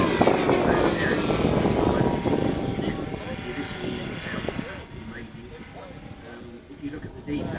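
A Carf T-6 Texan scale model aeroplane flies at an air display at Weston Park, its steady propeller engine drone loud and continuous, slowly easing in level, with faint crowd or commentary sounds underneath.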